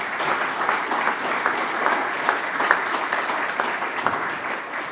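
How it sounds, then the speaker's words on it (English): A crowd applauds continuously, many hands clapping in a dense, steady patter throughout. "Applause"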